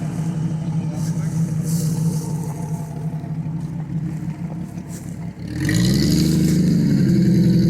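A cheap truck climbs a hill in a Minnesota cheap-truck challenge, its engine droning steadily, then surging louder and revving up near the end, close and loud.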